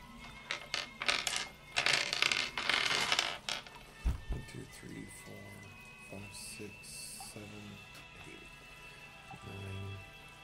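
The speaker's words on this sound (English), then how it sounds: "We'll throw some simulated dice shaking." Simulated dice shaking from a phone dice app, a burst of rapid clattering rattles over the first few seconds, then sparser clicks and tones while voices talk underneath.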